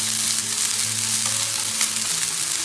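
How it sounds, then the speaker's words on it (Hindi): Ginger garlic paste sautéing on a low flame, a steady close hiss of frying that holds without a break, with faint low hum underneath and no talk. "थोड़ा सा जिंजर गार्लिक पेस्ट डालें, इसको थोड़ा सॉटे करेंगे।"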